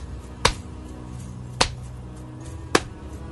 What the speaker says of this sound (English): Congratulations, you get a golf clap.